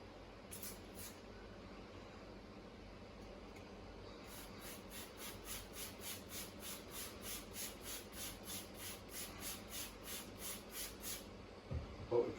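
Rhythmic hissing bursts from a hand spray bottle misting water onto a cloth laid over a bowl of pizza dough, a steady run of short, evenly spaced pumps, close and fairly quiet.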